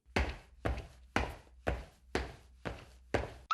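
Seven evenly spaced, heavy thudding footsteps, close and fairly loud, in a steady walking rhythm with no voices.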